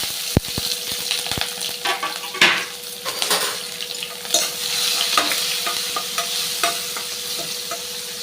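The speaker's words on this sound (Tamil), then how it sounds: "இப்போது வந்து பச்சை மிளகா இஞ்சியும் கட் பண்ணி வச்சுருக்கேன் அதை போட்டுக்கிறேன்" Green chili and ginger frying in hot sesame oil for a citron (narthangai) pachadi: a steady close sizzle with scraping stirs and a few sharp utensil knocks against the pan at the start.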